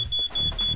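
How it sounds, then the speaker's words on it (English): A student-house smoke alarm sounds in a kitchen as a thin, steady high-pitched tone, with low rumbling handling noise underneath. "Try and disable the alarm as quickly as possible"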